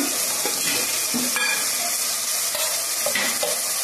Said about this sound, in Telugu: ఇప్పుడైతే ఇందులో అల్లం చిన్నులపాయల పేస్ట్ అయితే వేస్తున్నాను